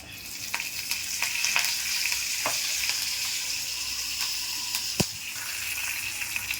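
Cumin, mustard seeds and curry leaves sizzle in hot oil for a peanut chutney tempering, a steady close crackling hiss dotted with sharp pops, one louder snap near the end.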